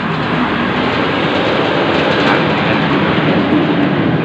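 A train rumbles past loud and close near a village station, a continuous broadband roar with faint rhythmic clatter of wagons throughout and no voices.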